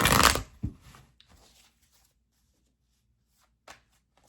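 Tarot cards are shuffled in a quick burst of papery riffling and flicking, followed by a few soft, scattered card taps and a faint later slap, close and clear with no talking.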